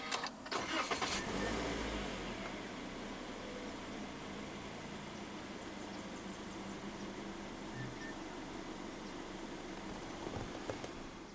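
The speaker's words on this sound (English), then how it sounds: "Put your foot on the brake and press the start button to the right of the steering wheel." A 2019 Toyota C-HR with a 1.8 engine is started by push button: a short crank catches at once, then the engine settles into a steady, quiet idle with a faint hum, alone and close.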